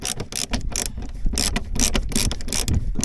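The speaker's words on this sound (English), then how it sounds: "I'm just going to use my hand screwdriver just so we can feel our way in" A hand screwdriver drives a screw into a tank fairlead on a packraft, making a continuous run of close, rapid ratcheting clicks that pulse with each twist.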